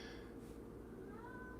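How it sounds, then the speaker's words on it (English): A house cat meows faintly in the background, a few soft wavering calls rising over a low steady room hum, with no talking over them. "Can you hear my cat meowing in the background?"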